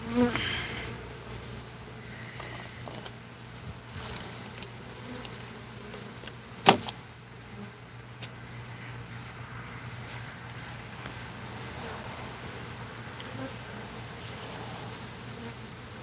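Honeybees buzz steadily around an open hive under inspection outdoors, a continuous low drone with light wind noise and one brief sharp knock partway through.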